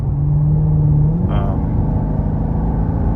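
Maserati Quattroporte Sport GTS engine braking hard with a quick downshift, a steady low hum that jumps up in a short rev blip before settling into a lower rumble, heard from inside the car.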